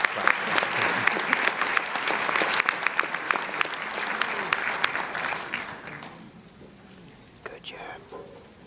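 Audience clapping at a concert choir performance, a loud rhythmic stretch of crisp claps that thins out and fades after about six seconds, leaving a few scattered claps and quiet murmuring.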